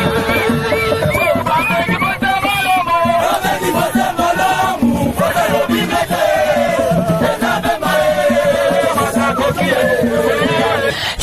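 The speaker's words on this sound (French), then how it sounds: "C'est une foule en liesse de partisans du mouvement de libération du Congo qui est venue accueillir l'ancien vice-président" A jubilant crowd of Movement for the Liberation of Congo supporters welcoming former vice-president Jean-Pierre Bemba in Bikoro, loud and continuous with chanting voices, shouts and singing over a dense, unbroken roar throughout.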